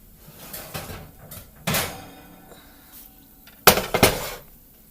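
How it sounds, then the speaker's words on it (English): Kitchen oven opened to pull out a pan of BBQ pork ribs: sharp clanks of metal door and cookware, a rattling thud, then a cluster of loud clattering knocks near the end, with quiet pauses between. "And we're going to go in the oven and pull the ribs out."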